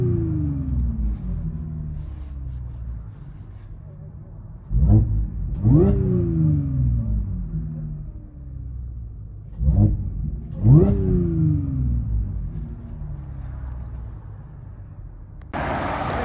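A 2013 Audi S4 3.0L supercharged V6 with AWE cat-back exhaust and Vibrant resonators idles with a low rumble, then revs sharply in two pairs of rising, roaring bursts heard from inside the cabin, settling back to idle between them.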